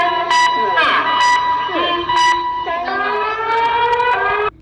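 A Chinese emergency alert system alarm blares loud and close, a harsh wavering electronic tone with rising and falling pitch sweeps, cut off abruptly near the end.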